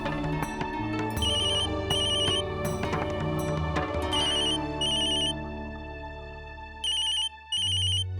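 A phone ringtone plays steadily and loudly, a bright electronic melody repeating its chiming pattern with no voices over it.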